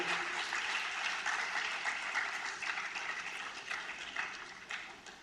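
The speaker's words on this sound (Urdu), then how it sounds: "تالیوں کی گونج ہال میں سنائی دینی چاہیے" A small audience in a hall gives sustained applause to welcome a guest, a bright, steady clatter of many hands that holds strong and then slowly tapers off, with no talk over it.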